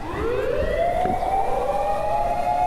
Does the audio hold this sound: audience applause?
no